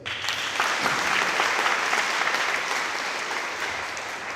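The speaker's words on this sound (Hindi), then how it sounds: "एक बार ताली बजा दें।" An audience at a gathering applauds a team, a steady dense wash of many hands clapping together at an even level throughout, fairly close and without talk on top.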